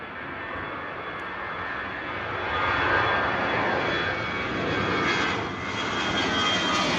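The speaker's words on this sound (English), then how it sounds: "you can hear those CO engines absolutely screaming out" Jet aircraft engines at Bristol Airport roar steadily as a Boeing 737 variant departs, a broad loud rushing drone that swells and eases slightly without any talk.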